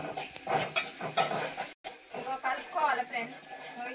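Onions tipped into hot oil with cumin seeds crackle in short bursts, with spoon stirring scrapes over a home kitchen for a dried fish curry, and a voice talks throughout.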